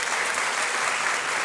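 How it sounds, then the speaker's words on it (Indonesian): Loud sustained clapping from a crowd at a medical school oath-taking ceremony at UPH, honoring university lecturers, a dense uniform wash of hands lasting about a second and a half. "tepuk tangan untuk dosen UPH ya"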